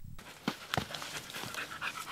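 A search and rescue dog on a mountain mission pants close by in quick, breathy bursts, steady and unbroken over a soft outdoor background.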